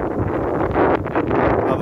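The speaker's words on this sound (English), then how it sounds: "the wind is blowing a little bit today" Wind buffeting a microphone outdoors in a Suffolk village, a loud continuous rushing roar with gusty swells and no voices.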